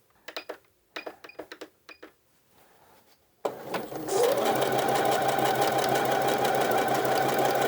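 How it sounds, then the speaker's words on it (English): Near the point of a dart on an A-line skirt, a sewing machine starts after a few soft handling clicks and taps, then runs loud and steady in a continuous close whirring hum. "as we get towards the point of the dart, I'm going to shorten my stitch length"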